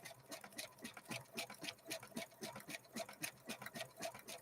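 A Brother LB-6800 embroidery machine stitches through two thin layers of velvet back to back, making a steady, fast mechanical chatter of needle strokes that repeats evenly throughout at a soft, close level.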